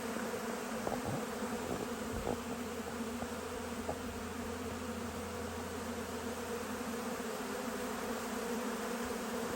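Honey bees buzzing steadily close by during honey extracting, crawling over cut comb, a continuous droning hum with a few brief louder passes, no talking.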